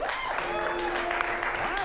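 A comedy club audience at an improv show claps in a dense, steady burst of applause that lasts the whole moment, with some voices and whooping mixed in.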